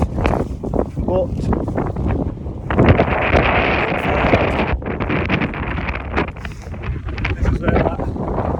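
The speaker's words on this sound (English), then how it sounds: "It's a bit windy" Strong gusts buffet the microphone on open moorland at Kinder Scout, a rough, rumbling roar that swells and eases through the whole stretch, with someone talking close by over the wind.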